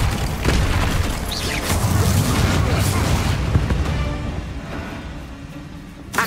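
Confringo explosive spell blasting spiders in the video game Hogwarts Legacy, a dense rumbling boom and crackle of blasts sustained for several seconds, loud and close, fading toward the end with a final pop.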